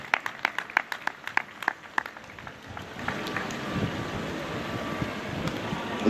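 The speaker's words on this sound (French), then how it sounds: "on applaudit très très fort, s'il vous plaît" Scattered individual claps come first, then an outdoor crowd at an adventure raid finish breaks into broader applause heavily blurred by wind noise on the microphone.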